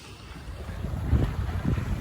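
Wind rushing over a trailer sailer under way with a symmetric spinnaker, a steady low buffeting roar with gusty swells and some water movement, close and fairly loud with no voices.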